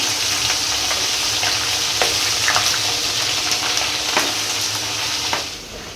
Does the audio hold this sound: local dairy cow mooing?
no